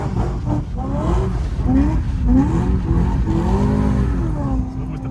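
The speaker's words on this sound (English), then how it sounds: "You won't get any other BMW M3 that sounds like this." A BMW M3 engine revs while driving, rising and falling in pitch through several throttle pushes, with talk over the engine note.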